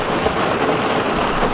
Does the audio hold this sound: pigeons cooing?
no